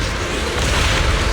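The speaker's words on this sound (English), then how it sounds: "Move in during the gap between explosions." Explosions rumble in the video game Zenless Zone Zero, a dense, continuous roar of booming blasts filling the whole span, loud and close with no pauses or voices.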